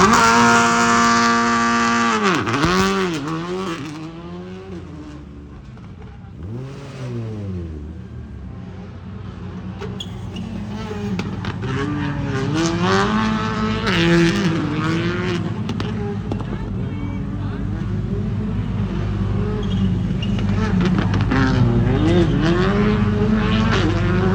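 Rally car at full throttle on a special stage of the Chablais rally, engine note rising and falling through gear changes, loud and close, sustained across the whole stretch while a commentator talks over it.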